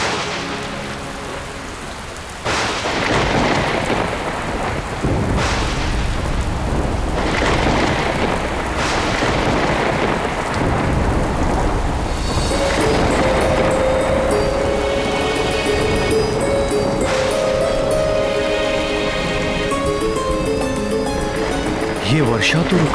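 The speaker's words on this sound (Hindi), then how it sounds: "ये वर्षा तो रुकने का नाम ही नहीं ले रही।" Heavy rain pours in a loud, continuous hiss, broken by sharp thunder cracks and rolling rumbles, with music swelling in partway through.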